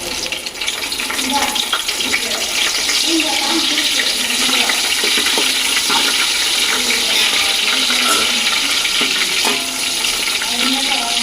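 Mint leaves sizzle in hot sesame oil, making a loud, steady frying hiss that runs without a break, with faint talk underneath.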